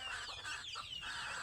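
Native desi chickens cluck in a soft, irregular series, faint and at a moderate distance, with no human voice.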